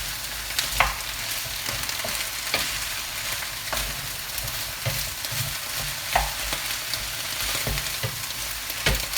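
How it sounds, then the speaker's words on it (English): Vegetables for ratatouille fry in oil in a pan, giving a continuous crackling sizzle with occasional stirring clicks and scrapes throughout. "put it on a lower heat now, sizzling"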